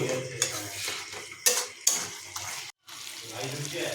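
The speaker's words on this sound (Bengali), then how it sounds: "পাঁচ মিনিট ধরে আমাদের খাসি মাংসের চর্বি কষানো হয়ে গেছে" Mutton fat and spices stirred in a pan for mutton ghugni, a Bengali pea curry, giving scattered metal scrapes and clinks over a steady low kitchen background, with a brief dropout near the end.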